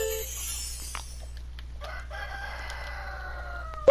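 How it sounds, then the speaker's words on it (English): A pet chicken crows and clucks at close range, its harmonic calls rising and falling over a steady low background hum, with a short louder burst at the very end. "What the heck is that chicken noise?"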